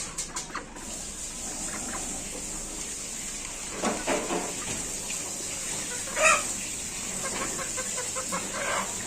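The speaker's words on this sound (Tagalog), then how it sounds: "Ito yung mga manok." Chickens cluck intermittently at a moderate distance at a live-animal market, short scattered calls over a steady high-pitched background hum.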